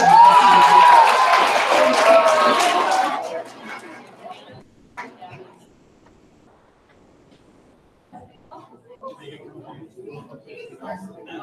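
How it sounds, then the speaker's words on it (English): Audience at a poetry slam clapping and cheering loudly for about three seconds, then fading to quiet room murmur and scattered small noises. "Round of applause, please"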